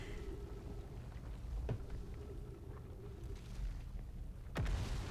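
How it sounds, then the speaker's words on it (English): In Outer Wilds, fragments from the moon strike the ground as distant, low rumbling booms over a steady droning bed, with one sharper nearer impact near the end and no voices. "It's like the explosions from the moon"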